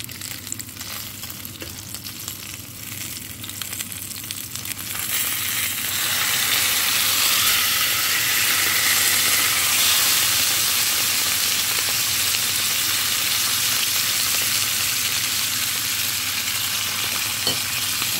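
Food fries in hot oil in a pan, a dense, steady sizzle that grows louder and fuller after a few seconds and then holds, close and loud, with no talking.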